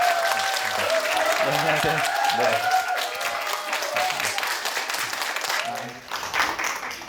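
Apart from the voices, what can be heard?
audience applause welcoming a speaker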